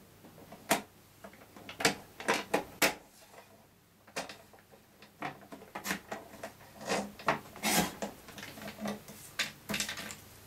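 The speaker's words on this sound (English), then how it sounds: "Then we're going to use the trimmer to trim off the excess." A paper trimmer cuts away excess cardstock during a crafting project: a series of sharp clicks, slides and scrapes, close and moderately quiet, in irregular bursts with no one talking.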